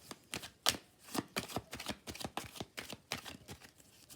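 Tarot cards are shuffled close up for a reading, a run of quick papery riffles and soft slaps repeating in an uneven rhythm for about four seconds.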